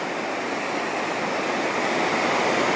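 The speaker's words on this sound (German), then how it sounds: "Und man sieht auch, wie die Riesenwellen hier ankommen." Large grey waves with white spray surging onto the Black Sea shore at Sochi, a loud, continuous, close roar of breaking surf with no pause.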